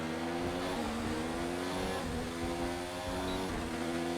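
A Formula 1 car engine in the F1 2019 video game screams continuously at high revs, loud and close, with shifting harmonic tones as it accelerates on track.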